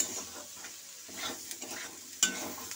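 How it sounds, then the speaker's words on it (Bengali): Potato and pointed gourd with chopped tomato are stir-fried in a pan. A steady close sizzle runs throughout, broken by scraping stirs and one sharp clink of the spatula against the pan. "ভালো করে ভেজে নেব"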